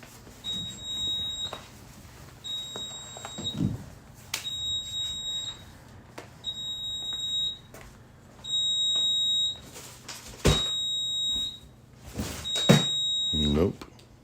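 Electronic beeping repeats at irregular intervals, a steady high alarm-like tone, like a smoke detector chirping, sounding in a garage over background noise and occasional talking.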